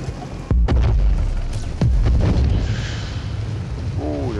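Heavy booming blasts from World of Tanks during its Wrecking Ball April Fools event, a couple of sharp loud hits followed by rumbling debris and a lingering roar, no talking.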